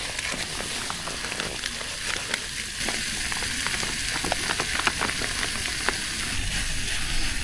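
Precooked lemony rice frying in a pan on a camping stove during a freezing summit wild camp on Helvellyn, a continuous close sizzle with crackles and occasional stirring scrapes, no talking.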